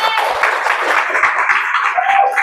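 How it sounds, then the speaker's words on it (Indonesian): A class of eleventh-grade students applauds and cheers in a classroom, a steady dense patter of many hands lasting the whole moment, with excited voices mixed in over the clapping. "tepuk tangan untuk saya."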